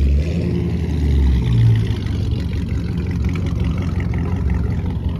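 A cammed drag racing car engine at a Mexico drag strip shootout, loud and close, with a steady rough lumpy rumble that rises briefly as it revs.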